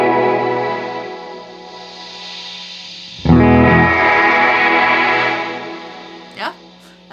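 Guitar played through a Walrus Audio Mako R1 reverb pedal: a sustained, effected chord rings with a long decaying tail, then a fresh strum blooms loudly and fades, with brief clicks near the end.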